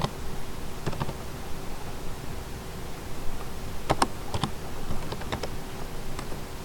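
Keystrokes on a computer keyboard entering a terminal command, in short irregular bursts of soft clicks against a quiet hiss, close and without talk.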